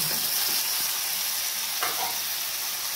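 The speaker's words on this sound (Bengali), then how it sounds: "মশলা ভালো করে কষিয়ে নেব।" Spices for a rohu fish curry fry in hot oil in a pan, giving a continuous close sizzle and hiss with a brief stir or scrape partway through, with no talking.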